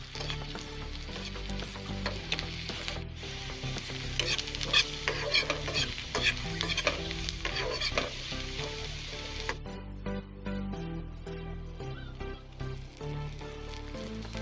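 Two medium onions fry in a pan until golden brown for an Assamese-style chicken curry, with a steady close sizzle and repeated scraping stirs and clinks, and no voices heard.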